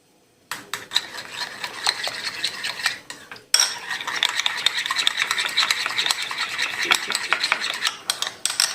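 A spoon rubs and scrapes around a bowl while mayonnaise and tomato ketchup are mixed into a sauce, making a close, continuous rasping swirl with a brief pause partway through.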